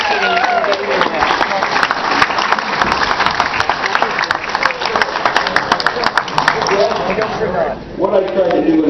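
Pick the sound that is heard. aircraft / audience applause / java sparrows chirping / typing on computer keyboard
audience applause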